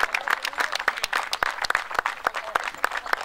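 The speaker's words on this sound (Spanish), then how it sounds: "Más fuerte el aplauso para este jovencito." Crowd applause at a horse parade with riders and delegations, steady dense clapping with sharp individual claps standing out, close and continuous throughout.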